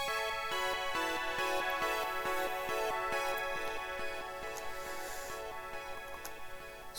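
Vox Echoes sampler instrument in AmiSampler plays a layered, sustained tonal pad with a steady ticking pulse running through it, heard alone at moderate level for several seconds.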